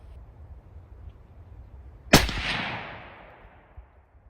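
A single sharp rifle shot firing a 105 grain match bullet (Berger Hybrid or Hornady Aeromatch) at a target range, loud and close, with a decaying echo trailing off over quiet outdoor ambience.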